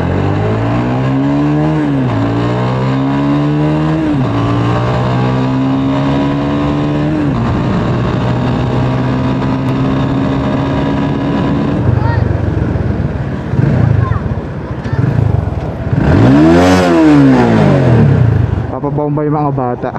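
Rusi Sigma 250 motorcycle on the road, its engine revving up and down through gears with rising and falling pitch sweeps, loud and close throughout, then idling briefly before a sharp rev.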